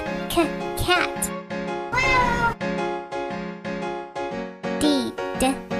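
A cat meows several times in a row, loud and close, with musical phonics backing and a voice around the calls.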